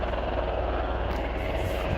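A helicopter flies overhead with a steady low rotor drone and broadband engine roar, sounding moderately close and continuous throughout with no talk.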